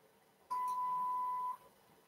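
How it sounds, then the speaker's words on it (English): A single steady electronic voicemail beep on a phone line, lasting about one second, clear and fairly loud against a quiet background. "Please leave a message after the beep."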